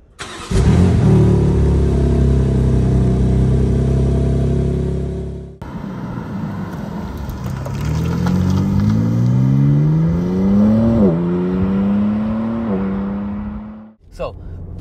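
BMW M3 Competition Touring xDrive engine starting with a sharp burst, then settling to a steady idle before climbing through several rising revs with brief dips between them, loud and close, with someone talking over part of it.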